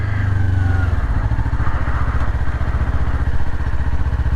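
A Kawasaki Ninja 400 motorcycle drops from a higher engine note into a lower, pulsing rhythm as it downshifts, the engine close and steady with clattering exhaust pops.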